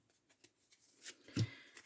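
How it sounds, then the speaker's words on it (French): Tarot cards from a cat-themed spiritual deck being drawn and slid from the pack, heard as a few quiet papery swishes and a soft snap near the end, close and faint in a hushed room. "je vais aller chercher juste 3 cartes"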